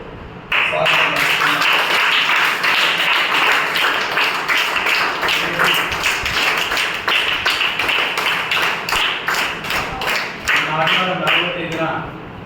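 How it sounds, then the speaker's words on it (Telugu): Crowd applause at a felicitation ceremony honouring national-level karate competition winners from a sports association, sustained dense clapping close by with scattered sharper claps, filling most of the clip. "ప్రతి ఒక్కరికి పేరు పేరున చప్పట్లతో"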